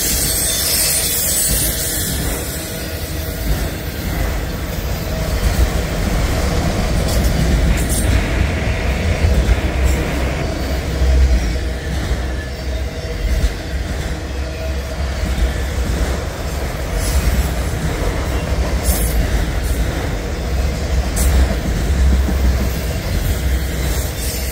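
A freight train rolls steadily past, its cars rumbling and clattering without a break for the whole stretch, loud and close, with no voices.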